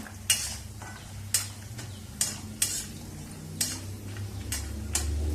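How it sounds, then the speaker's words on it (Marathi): Whole nutmeg and asafoetida frying in oil while a spoon stirs the pan, a steady low sizzle under about seven sharp metallic scrapes and taps at uneven intervals, with no talking. "ही पण तेलामध्ये चांगली तळून घ्यायची."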